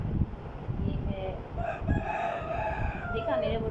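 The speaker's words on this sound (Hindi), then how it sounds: "देखा मेरे मुर्गे फिर बोलने लगे," Roosters crow at a home near Karachi, several drawn-out cock-a-doodle-doo calls with clucking, moderately close, while someone talks over them.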